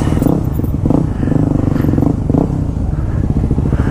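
A 250cc motorcycle doing a burnout, its engine revving in repeated surges with clattering and scraping tire noise, loud and close, no talk.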